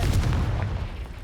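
Confringo fire spell blast in Hogwarts Legacy, a loud, heavy booming burst with a rumbling low body that holds steady and slowly fades across the moment, with no talk over it.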